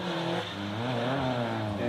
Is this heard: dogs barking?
no